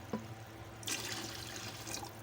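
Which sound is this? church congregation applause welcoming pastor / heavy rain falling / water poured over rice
water poured over rice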